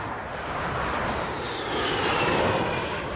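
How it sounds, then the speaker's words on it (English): Airplanes flying overhead in The Crew racing game, a steady airy engine roar that swells slightly as it passes, moderately distant, with no speech. "there's actually planes flying around the area"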